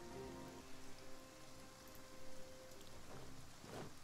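Rain falls continuously in the survival video game Project Zomboid, a steady soft patter on surfaces with a faint tonal hum underneath and a couple of swelling gusts toward the end, with no voices.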